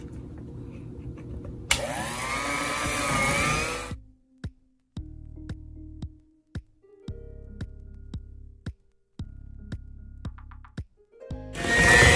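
An electric mixer beats cream cheese and condensed milk for a key lime pie: a loud whirring run of a few seconds, then a series of shorter, lower motor bursts broken by brief pauses and sharp clicks.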